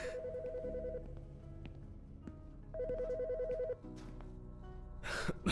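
A telephone ringing in the Autopsy Simulator video game, with two clear bursts of a repeating electronic ring separated by a pause, close and fairly quiet, and a brief rustle at the end.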